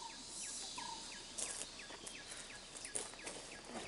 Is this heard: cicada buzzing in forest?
yes